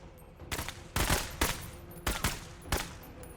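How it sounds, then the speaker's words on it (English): Gunfire in the tactical video game MENACE: five or six sharp, loud shots or short bursts at uneven intervals, each cracking out over a quiet background hum, with no talking. "Get into cover and start putting shots on those."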